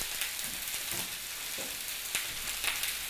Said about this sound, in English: So just going to pop them into the frying pan here.